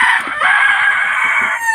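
A farm hen that has just laid its first egg, calling loud and close in a continuous, strained clucking cackle with no talk.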